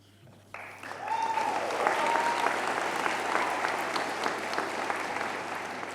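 Audience applause at a university graduation and commencement ceremony in Switzerland, breaking out suddenly and holding as dense, sustained clapping from a large crowd, with a voice briefly heard beneath.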